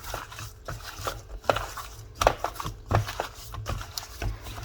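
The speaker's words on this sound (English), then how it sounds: "And now I will actually now mix that together." Wet squelching and slapping as seasoning is worked by hand into raw turkey necks in a bowl, an irregular, close, steady rhythm of soft knocks and squishes.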